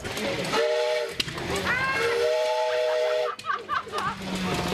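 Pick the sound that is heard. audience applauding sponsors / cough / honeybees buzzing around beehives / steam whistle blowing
steam whistle blowing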